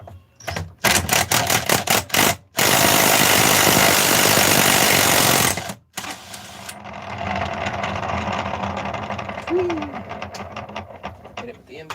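An impact wrench drives a homemade socket during work on a 288 engine crankcase. A loud rapid rattling hammer fires in short bursts, then in one sustained run of several seconds. After it stops, quieter shop noise and a voice follow.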